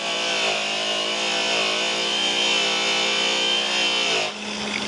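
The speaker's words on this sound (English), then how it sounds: "I hold my grinder upside down like this. Put my buff on." An upside-down angle grinder with a buffing wheel polishes a rough acid-washed metal tank, giving a loud sustained whine and rubbing hiss that holds steady for about four seconds before the pitch drops and eases off, with no talking.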